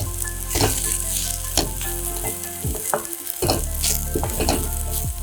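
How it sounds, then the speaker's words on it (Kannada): Ivy gourd stir-fry frying dry in a pan as garam masala is mixed in, with a loud continuous sizzle broken by repeated clattering spoon strokes close by. "1 ಟೀ ಸ್ಪೂನ್ ಅಷ್ಟು ಗರಂ ಮಸಾಲಾನ ಹಾಕಿ ಮಿಕ್ಸ್ ಮಾಡ್ತಾ ಇದ್ದೀನಿ."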